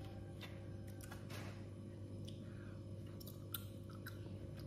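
Someone chews the head of a seafood dish in butter sauce, giving soft wet crunches and clicks at close range over a steady low background hum.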